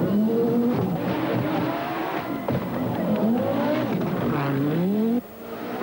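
Two-wheel-drive Lancia rally car at Rally Portugal 1985, its engine loud and close, revving and shifting through gears with rising and falling pitch, then dropping away sharply near the end.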